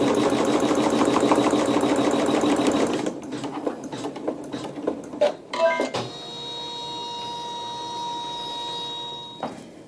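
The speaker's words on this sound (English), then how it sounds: "I'll let it finish stitching my seam" A sewing machine stitches a seam in a fast, steady run of rapid needle strokes, then slows into a few short bursts and clicks before a faint mechanical hum remains.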